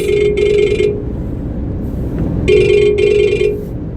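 A telephone rings with an incoming call in two bursts of trilling double rings, a pair at the start and another pair near the end, loud and close with a steady hum beneath.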